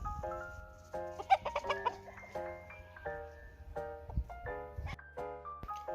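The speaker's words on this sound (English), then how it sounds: "let me insert a clip of this chicken" Chicken clucking and squawking just outside a car, a run of loud, close, chattering calls with uneven rhythm over about six seconds, no talking.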